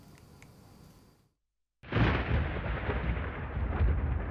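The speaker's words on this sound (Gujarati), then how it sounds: "આ દરિયાઈ વિસ્તાર છે કે જ્યાં ભારેથી અતિ ભારે મોજા ઉછળી રહ્યા છે" Heavy sea waves crash on the Dwarka coast during Cyclone Biparjoy. After a low rumble and a brief dropout, a sudden loud crash swells into a sustained, powerful roar of surf.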